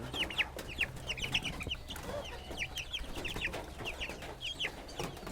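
Broiler chickens kept in a small home-scale cage cluck repeatedly in short, high bursts throughout, several birds calling over a steady low background hum.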